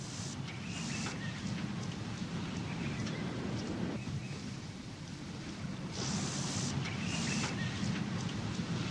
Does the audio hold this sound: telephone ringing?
no